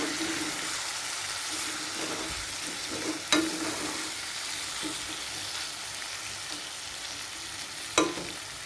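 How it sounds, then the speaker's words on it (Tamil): Chicken pieces fry in a pan for a chicken roast, a continuous close sizzle with stirring scrapes and a couple of sharper clinks against the pan, no talk. "இந்த பக்கம் ஒரு 2 மினிட்ஸ் நல்லா ஃப்ரை ஆகி வரட்டும்"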